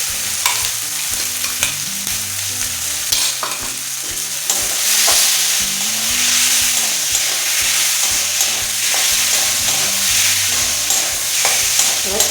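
Chicken and green peas sautéing with spice paste and red chili paste in a pan for a ghugni, a steady close sizzle broken by repeated scraping stirs, no voices.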